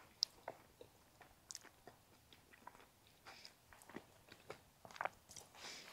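Close, quiet chewing of tartiflette made with cheese, potato and ham shoulder, soft wet bites and small crunchy clicks scattered irregularly over six seconds, outdoors at a marsh bivouac.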